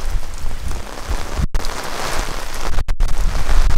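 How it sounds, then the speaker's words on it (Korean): Sudden heavy rain pours down in a loud, dense, unbroken hiss of drops hitting surfaces close by, with no voices over it and only a couple of split-second dropouts. "갑자기 비가 와가지고,"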